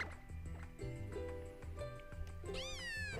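A Litten, the fire-type kitten Pokemon from Pokemon Sun, gives a short meowing cry over steady game music, with a rising, swooping chirp near the end.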